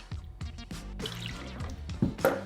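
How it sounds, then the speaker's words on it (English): Gin poured in a double measure into a cocktail shaker filled with ice, heard as short liquid splashes and drips in a few quick bursts, close and clear. "This time we're going to use a double measure of gin."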